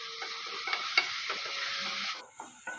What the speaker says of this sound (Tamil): இப்போ வெஜிடபிளுக்கு தேவையான உப்பு சேர்த்து வதக்கி வச்சுக்கோங்க.